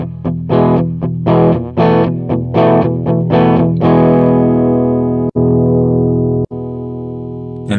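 Electric guitar runs through a Digitech RP200 multi-effects unit with the pickup type conversion switched off, strumming distorted chords in a steady rhythm, then letting a final chord ring out with a couple of small clicks.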